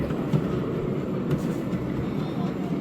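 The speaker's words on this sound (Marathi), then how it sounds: "ट्रेन आहे, मिनी ट्रेन." A mini train rumbles along steadily close by in Goa, a continuous low mechanical drone with faint rattling over the top.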